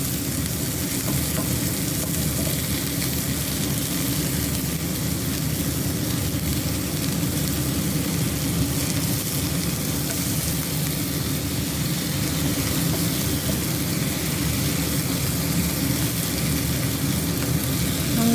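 Coriander hisses and sizzles steadily in a hot pan during okra cooking, a dense, continuous frying crackle that stays even and close throughout with no voices.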